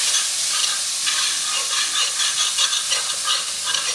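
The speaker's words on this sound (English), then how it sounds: "That's scraping, gently scraping drippings from the pan." Drippings gently scraped from the bottom of a frying pan under a loud, dense sizzle, with soft rhythmic scraping strokes running throughout, close and without talk.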